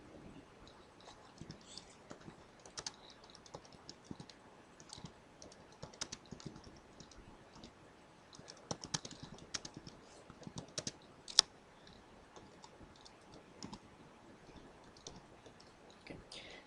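Python code is typed on a computer keyboard as a steady patter of soft, close key clicks, with irregular bursts and pauses. It is fairly quiet throughout and has no talking over it.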